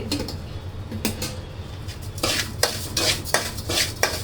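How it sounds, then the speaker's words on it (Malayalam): A spoon stirs sugar into a metal pot, giving steady clinking and scraping, with faster, louder strokes in the second half. The sound is close and continuous, with no speech. "എന്നിട്ട് ഇത് നല്ലോണം ഒന്ന് ഇളക്കി കൊടുക്കും."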